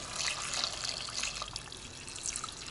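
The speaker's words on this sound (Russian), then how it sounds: "И сюда воду, которую мы недавно кипятили." Recently boiled water is poured onto cut potatoes in a home kitchen, a soft splashing trickle heard close and fairly quiet throughout, with no voices.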